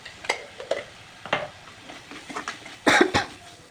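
A spoon stirring a spiced paste of coriander, cumin and chilli powder in a frying pan, a few close scrapes and clinks over a soft sizzle.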